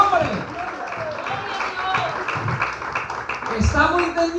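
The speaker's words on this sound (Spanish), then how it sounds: "Dale los aplausos, dale gloria" A congregation claps at a Spanish-language church service, a moderate ripple of applause heard under and between a preacher's voice.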